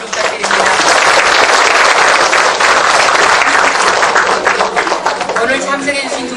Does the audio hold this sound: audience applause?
yes